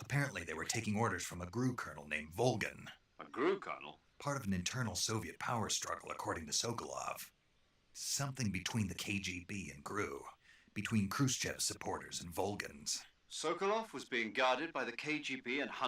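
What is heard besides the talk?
No distinct noise like a dog, phone or traffic.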